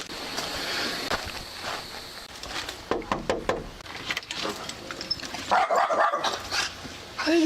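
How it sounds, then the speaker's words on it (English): A dog barks and yips amid a busy background of clatter and low voices, with a cluster of clearer barks late on. Moderately faint and mixed into the surroundings. "Hey there, puppy."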